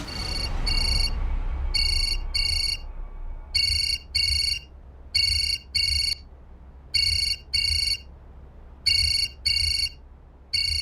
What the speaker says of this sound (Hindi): अशोक का फोन है।